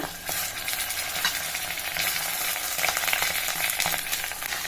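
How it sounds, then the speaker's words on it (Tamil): Brinjals fry in hot oil over medium heat for ennai kathirikai kuzhambu, giving a steady close sizzle with occasional stirring scrapes and no voices. "அதே எண்ணெயில் நல்லா திருப்பி திருப்பி விட்டு வேக வச்சிடலாம்"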